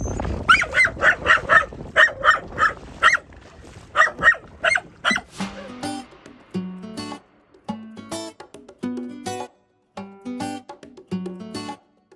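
Several dogs bark, yip and whimper near a sailboat, starting as a dense cluster of loud barks, then breaking into sparser, higher whines and yelps with short gaps between them.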